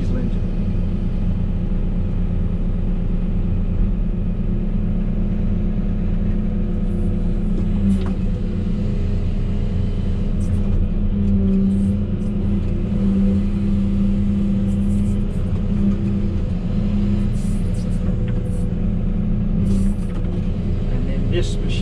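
A 12.8-litre diesel engine drones at a steady low idle throughout, deep rumbling harmonics constant and loud, with faint clicks and knocks layered on top.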